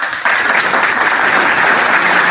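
Audience applause at a talk swells in after a brief quiet moment and carries on as a loud, dense wash of clapping from many hands, close and unbroken to the end.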